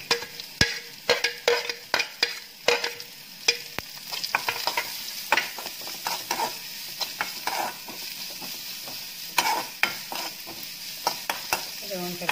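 Chopped beetroot sizzles steadily in a hot pan for a Kerala-style pachadi, with repeated sharp scrapes and clinks as a spoon stirs it through the oil, fairly close and loud with no talking.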